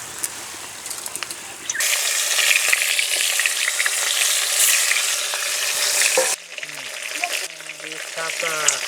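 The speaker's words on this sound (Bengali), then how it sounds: "বাকি মাছগুলো লাল লাল করে ভেজে নিয়েছি।" Pieces of shol (snakehead) fish frying in hot oil until reddish, a loud close sizzle that starts abruptly, holds steady with crackles, then drops to a quieter hiss with faint clinks.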